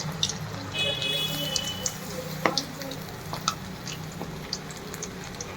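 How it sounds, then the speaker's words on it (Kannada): Cauliflower for gobi manchurian frying in hot oil, a steady close sizzle with scattered pops and clinks of stirring throughout. "ಈಗ ಇದನ್ನು ಎಣ್ಣೆ ಬಿಟ್ಕೊಳ್ಳೋಣ. ಇದೆಲ್ಲ ಇದೆಲ್ಲ ಸ್ವಲ್ಪ ಫ್ರೈ ಆಗಲಿ."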